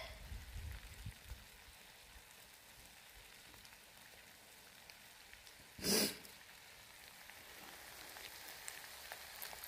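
Steady rain falling outdoors on a road makes a faint, even hiss throughout, broken by one brief, louder rustling burst midway, with no talking.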